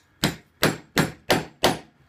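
A hammer strikes a tool during leather tooling: five sharp, evenly spaced taps in quick steady rhythm, close and clear with no talk.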